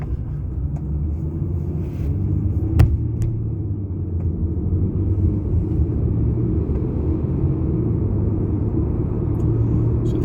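Car cruising at speed on an expressway in Savannah, a steady low road rumble and engine drone heard from inside the cabin, continuous with a brief knock partway through.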